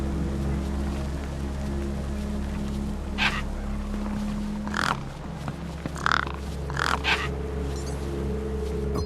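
Crows caw in the video game Beyond a Steel Sky: several harsh, short calls burst out in a scattered cluster over a steady low background hum, fairly close and loud.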